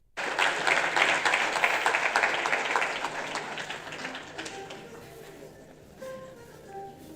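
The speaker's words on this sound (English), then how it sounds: "Please give them a round of applause." Audience at an entrepreneurs' funding summit applauding, a full burst of many hands clapping that swells early, then gradually tapers off while faint tones and voices emerge underneath.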